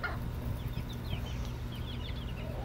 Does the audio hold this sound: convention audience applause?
no